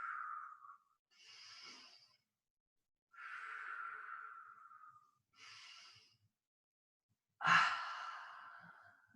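Slow, deliberate breaths during yoga shoulder rolls: a rising inhale followed by a long, audible exhale, repeated in a calm rhythm and heard close and alone in a quiet room.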